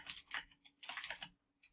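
Close, quiet typing on a computer keyboard while writing in Google Docs, two quick bursts of rapid key clicks separated by a short pause, then a single faint tap.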